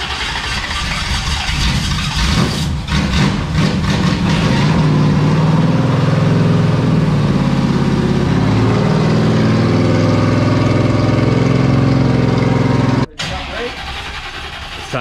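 A Richard Petty 1972 tribute race car's engine cranks, catches and runs with a loud, continuous roar, close by and dominating throughout, with people talking over it before it abruptly cuts out near the end.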